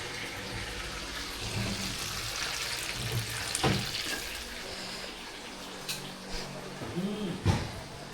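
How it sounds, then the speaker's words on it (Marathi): Papdi frying in oil at a Konkan picnic makes a steady, moderately loud sizzling hiss throughout, with a few brief clatters and faint voices in the background. "अजून एक पापडी इकडे आहे. थोडं फ्राय करायचं आहे."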